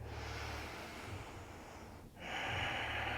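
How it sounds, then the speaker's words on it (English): A deep yoga breath drawn during a vinyasa flow, broad breathy noise rising and falling over a couple of seconds with a brief dip before a stronger exhale, close and fairly loud with no talk. "taking a big breath here"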